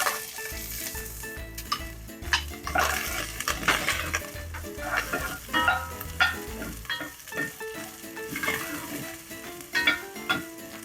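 Half a large onion frying and sizzling in a pan after browned meat is removed for a homemade spaghetti meat sauce, with steady crackling, stirring scrapes and occasional utensil clinks throughout, close up.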